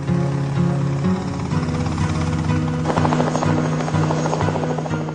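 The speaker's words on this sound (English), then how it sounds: "the helicopter." An AH-64 Apache attack helicopter flies close by, its loud, steady rotor chop and engine buzz running continuously, with a harder pulsing beat setting in partway through.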